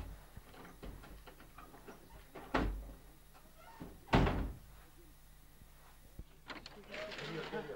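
A door thuds shut twice in a quiet indoor room, two short solid knocks a couple of seconds apart amid faint household background.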